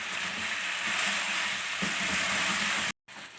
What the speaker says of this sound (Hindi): अब जो 3-4 मिनट हमारे पास बाकी हैं उसमें मैं अदरक लहसुन के साथ इसको फ्राई करूँगी।